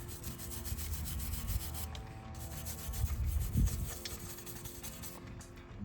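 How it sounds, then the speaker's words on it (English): A brush scrubs caked grime off a 2002 Honda CR250 motorcycle frame, giving a steady close scratchy rubbing with uneven strokes and no talk. "to get in here and scrub up this stuff that's just been stuck in here for who knows how long"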